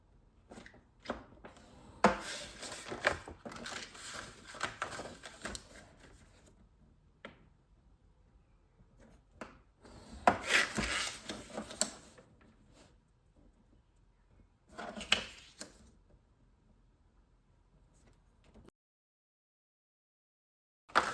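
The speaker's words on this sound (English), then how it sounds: "That's why I'm folding these in." Scored paper is folded and creased by hand to form an envelope, giving short dry crinkles and presses in a few separate bursts with quiet gaps between, close and soft.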